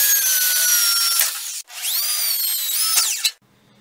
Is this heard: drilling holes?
yes